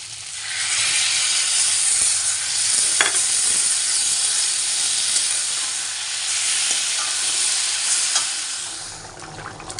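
Potatoes fry with spices in a pan for egg curry, giving a loud, steady close sizzle and hiss with occasional scraping stirs throughout.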